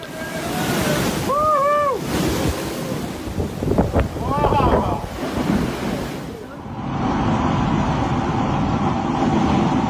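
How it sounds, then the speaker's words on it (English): Ocean surf on the Washington coast rushing and breaking against the shore, buffeted by heavy wind noise, with a few brief tonal calls near the start. "As waves continued to crash ashore, the Washington coastline became a dramatic display of nature's raw power"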